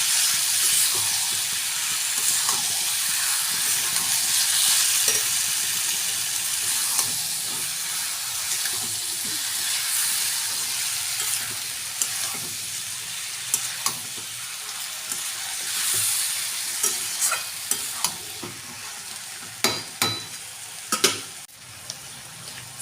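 Boiled jackfruit and potato stir-fried in a pan for a shrimp and jackfruit curry, giving a steady sizzle and hiss with scraping spatula strokes that grow sharper and more frequent toward the end.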